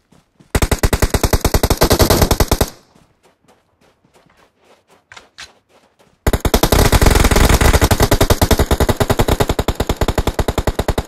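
Rapid automatic gunfire from a DGS M429 in a video game, loud close bursts of evenly spaced shots, a pause with scattered single cracks, then another long sustained burst.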